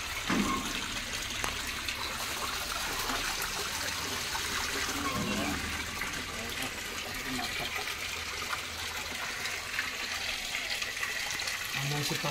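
Hot spring water pours steadily from a pipe at the Taptapani hot spring, a continuous close rushing splash that fills the whole stretch, with voices in the background.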